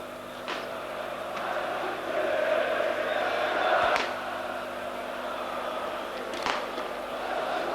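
Dinamo supporters chant and cheer throughout a Dinamo Zagreb versus Hajduk Split football match. The sustained crowd roar sounds distant and moderately faint, with a few sharper bursts rising above it.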